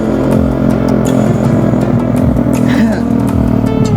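A Honda Grand motorcycle engine runs loud and close, a steady buzzing drone with small rises and dips in pitch as it revs, continuous throughout while a person talks over it.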